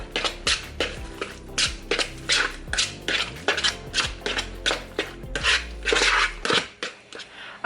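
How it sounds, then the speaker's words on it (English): Spoon mixing enchilada green salsa ingredients in a bowl, a rapid rhythmic series of close, loud clinks and scrapes against the dish, with no talking. "we're gonna go ahead and get a spoon, and we're gonna mix all of this together"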